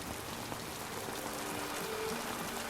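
Steady rain falls in an animated show's outdoor breakup scene, a continuous dense patter with no clear breaks, with faint tonal background music or ambience running underneath.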